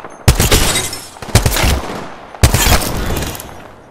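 Three loud bursts of automatic gunfire in an Apex Legends firefight at close range, each sharp onset trailing off before the next, with no voices.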